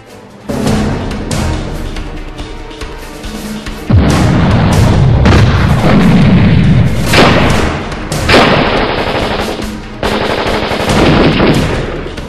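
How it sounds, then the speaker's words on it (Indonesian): Heavy bursts of rapid gunfire from Dutch soldiers rattle on and off at night, loud and close, with booming thuds layered between the volleys. "Tembakan demi tembakan bertubi-tubi dilepaskan oleh tentara Belanda"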